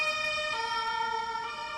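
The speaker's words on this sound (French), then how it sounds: "Après ce petit incident, une ambulance est venue" Ambulance siren wailing steadily with strong harmonic tones that shift pitch partway through, close and fairly loud over low road noise, no voices.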